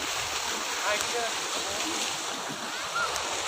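Sea water surging against the corniche at Al Khobar, a steady close wash of surf with brief faint voices drifting over it.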